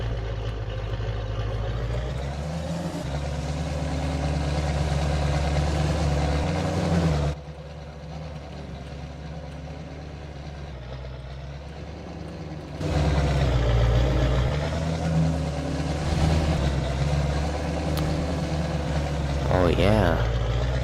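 A tractor engine idles in a farming video game, a steady low rumble that shifts in loudness and pitch across several sections, with a brief rising revving sound near the end.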